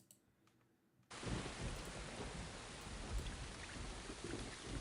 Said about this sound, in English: Nice rain sound.